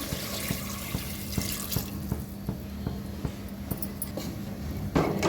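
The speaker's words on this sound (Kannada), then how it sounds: "ಮಟನ್ ಬೇಯೋಕ್ಕೆ ಎಷ್ಟು ನೀರು ಬೇಕೋ ಅಷ್ಟು ನಾನು ಇಲ್ಲಿ ನೀರನ್ನ ಹಾಕ್ಕೊಳ್ತಾ ಇದ್ದೀನಿ" Water is poured into a pot of mutton curry in a steady, rushing splash with a faint rhythmic pulsing, continuous and close, rising briefly at the end.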